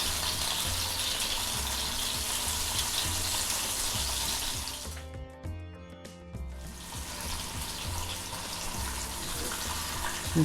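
Squid sizzles and spatters steadily in a hot pan with garlic, a dense continuous frying hiss that briefly dips in the middle before resuming at full strength.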